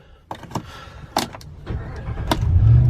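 A 2015 Dodge Ram with a 5.7 engine: a few sharp clicks and door knocks, then the engine cranks and catches into a swelling low rumble at the end.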